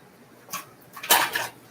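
Metal spoon scraping and clinking in a pan of roasted vegetables as amchur is stirred in, a few short scrapes, close and fairly quiet, with no talking.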